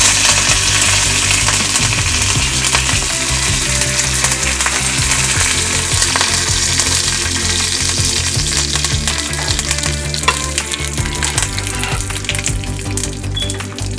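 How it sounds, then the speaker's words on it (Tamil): Mustard seeds, urad dal and curry leaves sizzle and crackle steadily in hot oil for onion chutney tempering, a loud continuous frying hiss with faint stirring and small pops throughout, no voices. "இப்போ கடுகு கொஞ்சமா போட்டுக்கோங்க, கொஞ்சம் உளுந்த பருப்பு, அப்புறம் கருவேப்பிலை கொஞ்சமா."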